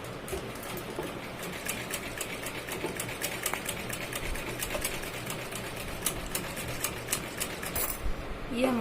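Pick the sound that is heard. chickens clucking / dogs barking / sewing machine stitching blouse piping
sewing machine stitching blouse piping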